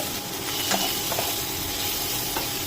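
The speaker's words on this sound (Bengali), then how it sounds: "হালকা ক্যাপসিকাম ও পেঁয়াজ হালকা ব্রাউন কালার হয়ে এসছে" Capsicum and onion fry in a pan for chilli chicken, a dense steady sizzle with a few soft spatula scrapes and taps as the pieces are stirred; no talking.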